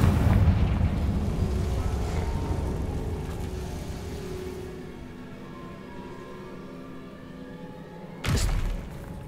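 A Confringo fire-blast spell from Hogwarts Legacy bursts in a loud, rumbling explosion that slowly fades over several seconds, followed near the end by a second short, sharp blast.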